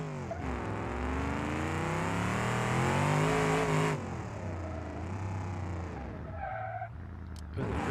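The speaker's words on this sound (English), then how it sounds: "the rear brakes are locking out" Car in BeamNG.drive, a Drift Marshal Roadkill project struggling in third gear, with engine noise under strain and a shifting tonal drone that suggests tires skidding as the rear brakes lock up, followed by a quieter idle near the end.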